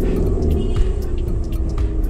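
Car pulling away in first gear and accelerating up a hill during a driving lesson, a steady low engine drone held close throughout with faint ticks above it.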